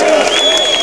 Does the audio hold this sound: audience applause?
yes